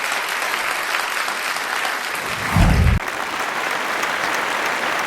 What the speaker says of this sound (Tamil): உங்கள் கைத்தட்டலோடு